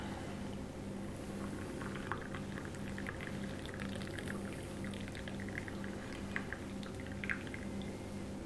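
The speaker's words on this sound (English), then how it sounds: "Boil the water." Water for Sumatra coffee rumbles and bubbles as it boils, a steady close sound with no voices over it.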